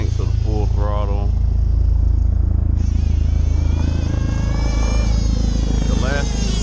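A REDS WR7 nitro RC car engine with a race tune screams at a steady high-pitched buzzing whine during the final stage of break-in, loud and continuous, with some speech faintly over it.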